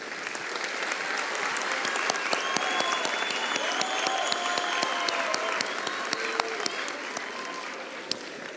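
Sustained applause and cheering from a crowd at a 2019-2020 high school commencement ceremony for graduates, steady clapping with sharp individual claps standing out, one or two higher whoops carrying above it.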